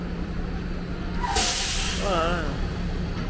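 City buses in Boston pass with a sharp, loud air brake hiss amid heavy traffic rumble. Wavering squeals follow the hiss, and a voice speaks briefly.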